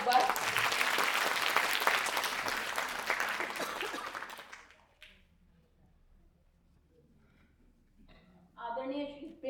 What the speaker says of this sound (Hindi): हम अपने अतिथियों का दिल से स्वागत करते हैं। जोरदार तालियां एक बार।